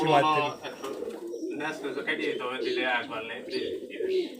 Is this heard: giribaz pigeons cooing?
yes